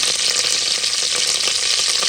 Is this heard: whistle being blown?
no